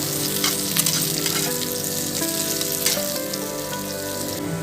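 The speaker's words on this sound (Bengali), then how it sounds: "তেলটা গরম হয়ে গেলে একটা বড় সাইজের পেঁয়াজ আমি কুচি করে দিয়ে দেবো। পেঁয়াজটা যতক্ষণ না ব্রাউন কালার চলে আসে ততক্ষণ ভেজে নিতে হবে" Chopped onion, a large one, frying in hot oil until browning for a pasta dish, giving a steady, close, loud crackling sizzle with a few sharper pops throughout, no voices.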